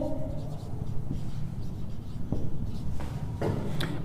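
A pen scratches on paper while a percentage is worked into a fraction, a steady, close scribbling over faint room noise with a few sharper strokes near the end.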